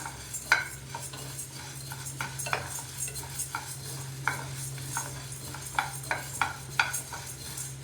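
Spices for a podi are dry-roasted without oil and stirred in a pan, giving a quick series of scraping, rattling strokes over a low steady hum. The sound is close and fairly quiet, with no speech.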